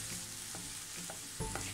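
Mashed banana mixture for kai pola is sautéed in a pan, a soft close sizzle with a few gentle scraping stirs of a spoon.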